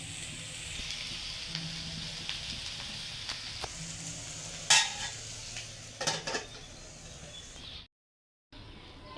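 Posto (poppy seed) fry sizzling in a pan, a steady soft frying hiss with clinks and scrapes of a spatula stirring against the pan, close by, ending in a brief silence.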